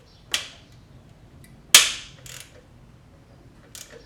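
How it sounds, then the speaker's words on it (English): A wrench works a 14 mm bolt loose on a Subaru WRX STI, giving a few sharp metallic cracks and snaps spaced apart, close and loud, with quieter clicks between them. "bolt spinning"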